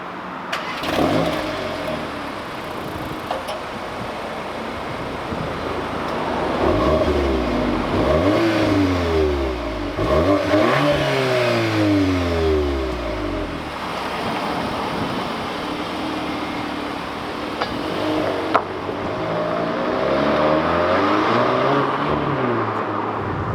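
A Volkswagen MK8 Golf R launches hard under launch control, its engine revving high then pulling through several rising gear sweeps, loud and close from inside the car with no talk.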